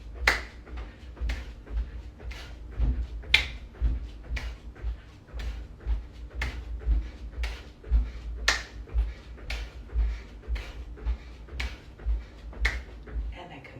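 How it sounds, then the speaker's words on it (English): Hands clap overhead during jumping jacks in a Dharma Yoga calisthenics session, sharp claps repeating in a steady, even rhythm, fairly soft and distant. "Make sure you clap your hands over the head."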